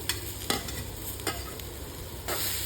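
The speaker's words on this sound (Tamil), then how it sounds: "இந்த மாதிரி கிளறி விட்டுட்டே இருக்கணும்" Bitter gourd and tomato sizzle steadily in a hot pan while a spatula scrapes and stirs in a few sharp strokes.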